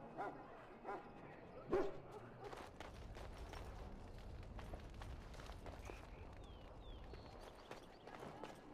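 Hounds in Dragon Age: Origins bark and yip in a busy kennel, with sharp barks, scuffling footsteps and a low rumbling background, one loud bark standing out early over steady commotion.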